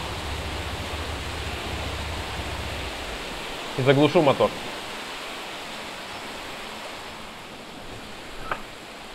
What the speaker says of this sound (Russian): Я даже газ отпущу, чтобы послушать звук воды.